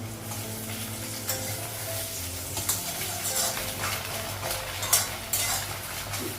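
An egg frying in hot oil in a home kitchen gives a continuous close sizzle and stirring noise, with occasional light clinks of a utensil and a low background hum.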